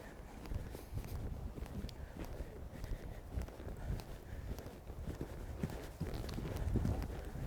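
Rhythmic hoofbeats of a horse at a steady canter in a show-jumping schooling session, repeated thuds continuing throughout, with a soft background rumble and no talking.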